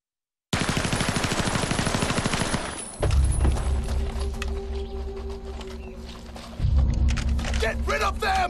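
Gunfire in a Resident Evil 0 video game cutscene: a loud, rapid burst of automatic fire for a few seconds, then a heavy rumbling backdrop with further bursts, rising sharply again near the end.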